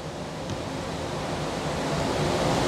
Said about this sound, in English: And I'm going to rinse it with some DI water